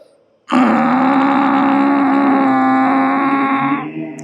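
A voice imitates snoring with one long, loud, rasping throat sound held steady for several seconds after a short quiet start.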